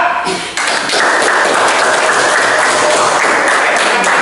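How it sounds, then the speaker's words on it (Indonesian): Loud, dense applause from a room full of people, starting after a brief pause and continuing steadily throughout. "tepuk tangan untuk kelompok 2"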